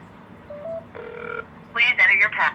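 Phone keypad tones dial out to voicemail, a brief soft beep followed by a steadier tone, then a voice begins talking over the line.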